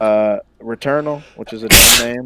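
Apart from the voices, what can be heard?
sneeze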